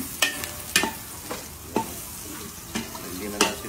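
Leftover rice stir-fries as sinangag in a pan, with a soft sizzle under crisp, evenly spaced scraping strokes of a spatula, roughly one every half second, close and clear.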